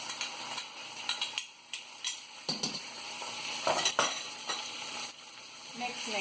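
Yogurt with fresh mint and cilantro is mixed in a hot pan for vegetarian tandoori rice, with a steady low sizzle under repeated close scraping and clinking strokes of a utensil against the pan.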